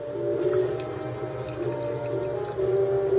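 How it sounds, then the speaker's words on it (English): Squishy, wet pressing and small bubbly squelches come from a bag of frozen fish fillet being worked to push out air, a steady close-up rustle with soft liquid gurgles. "burping the bag, so to speak. I'm working down here to bring up any bubbles"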